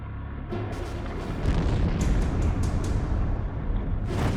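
Deep booming explosions near the US submarine Nautilus at the Battle of Midway, a continuous loud rumbling roar with several rapid blasts layered together.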